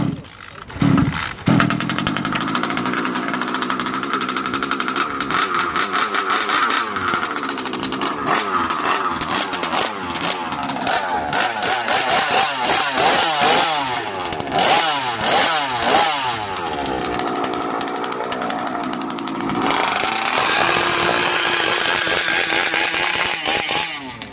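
A gasoline RC car engine sputters and catches after a few pulls, then runs with a buzzy, chainsaw-like whine that rises and falls with throttle blips, loud and close throughout with no talk.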